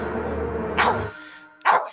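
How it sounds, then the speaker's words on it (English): A pet dog barks twice indoors, close and sharp, with a gap between the two loud yips over a steady low background hum. "No more barking"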